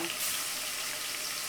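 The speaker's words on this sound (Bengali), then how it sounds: "এক পাশে বোয়াল মাছ ভাজতেছি" Steady hissing sizzle of boal fish frying in hot oil, fairly faint and unbroken throughout.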